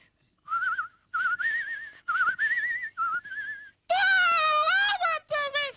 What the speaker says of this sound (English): I'm the best whistler in this kitchen, so I am.